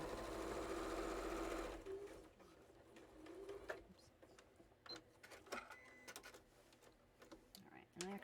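A sewing machine quilting fabric inside a converted school bus runs loudly and steadily for under two seconds, then stops; afterward, pigeon-like cooing and scattered light clicks and handling noises follow.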